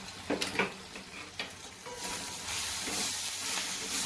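Moong dal fries in oil in a pan while being stirred, a steady sizzling hiss broken by scraping stirring strokes, growing denser and louder toward the end.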